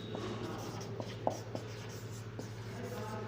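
Marker writing on a board during a regression analysis lecture, faint squeaky strokes and taps in short irregular bursts over a steady low room hum.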